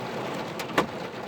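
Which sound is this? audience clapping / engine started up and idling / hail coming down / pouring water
hail coming down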